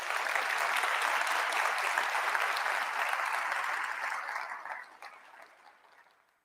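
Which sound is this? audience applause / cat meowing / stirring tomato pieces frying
audience applause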